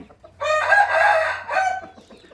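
A young Burmese rooster gives one loud, close crow, a drawn-out call lasting nearly two seconds with a brief dip near the end, against a quiet background.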